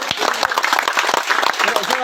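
Applause from a group of therapists at a yoga conference in Almora, Uttarakhand, with distinct individual claps in an uneven, close rhythm and some voices mixed in.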